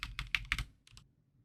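Rapid keystrokes on a computer keyboard while entering a formula in Excel, a quick burst of about six clicks followed by two lighter taps, close and clear with no talking.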